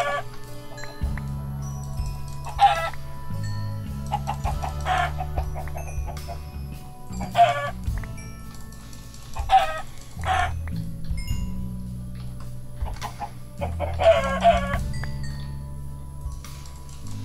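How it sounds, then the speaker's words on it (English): Chickens in the video game Minecraft cluck in short repeated bursts at intervals, several birds nearby, over quiet low background music and game sounds. "Why are there so many chickens?"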